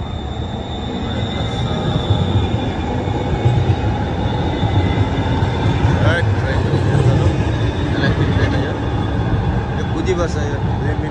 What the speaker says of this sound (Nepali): डाउन टाउनको 559 मेट्रो आइरहेको